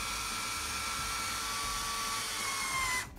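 A cordless drill drives a screw into a bathroom wall while hanging a mirror cabinet, giving a steady, loud, high motor whine that runs unbroken and then cuts off sharply at the end.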